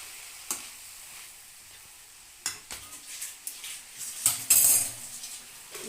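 Avare beans with fenugreek leaves being fried and stirred in a pan, with soft sizzling under clinking of a spoon against metal and several sharp scraping knocks toward the end, fairly close and without talk.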